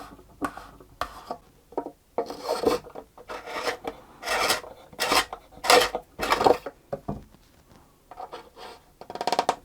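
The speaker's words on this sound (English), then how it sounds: "I have to use my extra large custom-made peg scraper" An extra large custom-made peg scraper working a thick instrument end button, uneven bursts of sharp scraping and grinding strokes, loud and close, with short gaps between passes.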